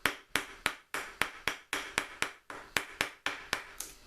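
Hand chiseling into clean, knot-free pallet wood for a door block, where a jigsaw cut gives a stop: about fourteen sharp, close mallet-on-chisel strikes at a steady, slightly uneven rhythm, each a crisp woody knock.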